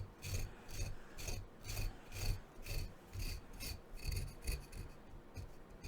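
Oil-softened psoriasis flakes are scraped from skin in a steady series of about a dozen short, rhythmic rasping strokes, close and fairly quiet, with no talking.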